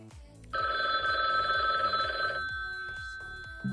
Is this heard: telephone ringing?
yes